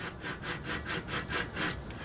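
A worn car wheel hub bearing grinds as the hub is turned by hand with the brake rotor removed, a rough, rhythmic rasping that pulses about six times, close and fairly faint.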